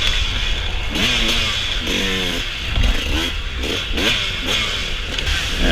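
A dirt bike engine runs at full throttle in a wooded hare scramble race, loud and close, with repeated rising revs and gear shifts over rough-terrain clatter.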